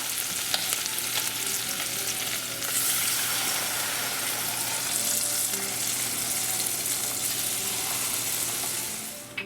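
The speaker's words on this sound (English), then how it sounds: "Okay, so the bacon is cooking. The garlic turns a little brown. I'm gonna start and add water now." Bacon and garlic fry in a pot with a steady, dense sizzle, and it swells into a louder, brighter hiss about two and a half seconds in as water is poured in. The bubbling crackle then continues without talk.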